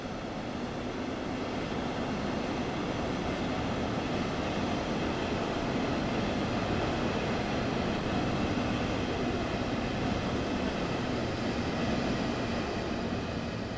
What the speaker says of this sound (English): the sound of the trains coming and going is great.